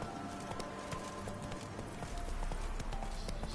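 Hooves of a galloping horse in The Witcher 3 beat in a quick, steady clip-clop rhythm over a dense, continuous game soundscape, fairly close and even in level.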